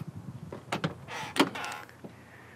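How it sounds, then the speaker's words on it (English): Power window motor in a 30-year-old truck door, several short whirring bursts close by as the window is driven down, with clunks in between and no talking. "So you actually drop the window down."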